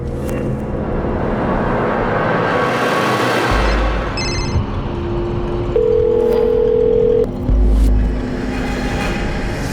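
A phone call that rings out unanswered: a steady electronic ringback tone with a faint tonal beep pattern over a low background hum, no voices heard.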